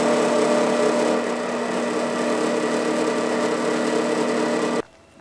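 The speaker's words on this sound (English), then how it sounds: "it's always neat to see see the hole being drilled from this angle" A drill bores steadily into a part of a Proforce generator, giving a continuous loud whirring grind that stops abruptly near the end.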